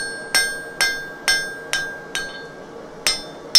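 Seven evenly spaced, ringing metallic hammer strikes on high carbon steel while shaping a keychain knife profile, close and clear, each blow followed by a short bright ring and no talk.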